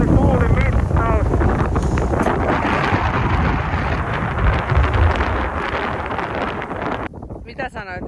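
Strong wind roars across a snowy mountain in Sarek, buffeting the microphone in a loud, continuous rush with gusts, while voices talk faintly beneath it.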